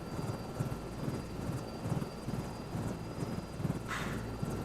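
Helicopter engine in Microsoft Flight Simulator 2024, a steady low rotor drone with a faint whine, running continuously at a moderate, unchanging level with a brief brighter burst near the end.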